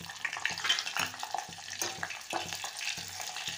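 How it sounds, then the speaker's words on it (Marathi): Finely chopped onion sizzles in hot oil with curry leaves in a pan for spinach and gram flour patodi, a steady close frying hiss broken by regular scraping stirs of a spoon, with no talking. "बारीक चिरलेला कांदा,"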